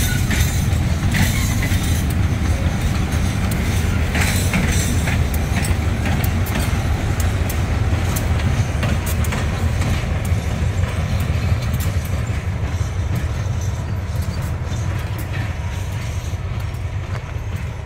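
A diesel locomotive hauls a train of cars along a Thai railway, a loud, continuous engine rumble and rolling wheel noise close by, steady throughout with faint rhythmic clatter.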